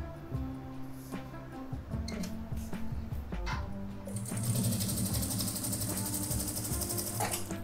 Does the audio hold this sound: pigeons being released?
no